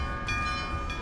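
A train sits at a station platform in Kyoto with a steady mechanical hum and sustained tonal whine, plus a couple of brief brighter bursts, all continuous and fairly close, with no talking.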